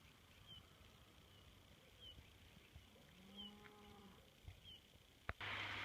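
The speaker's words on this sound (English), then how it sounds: "And that's a cow in the background." A cow lows in the distance on a rural path near Sarria on the Camino de Santiago, a faint drawn-out moo rising from steady outdoor background noise before a sharp knock at the end.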